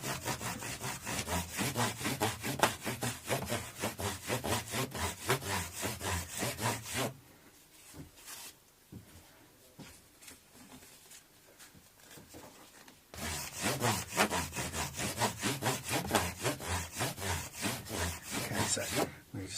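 Guitar frets on a Squier Strat are rubbed with 12,000 grit abrasive in fast, steady back-and-forth strokes, close and fairly quiet, pausing for several seconds midway before resuming.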